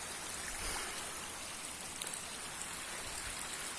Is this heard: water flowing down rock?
yes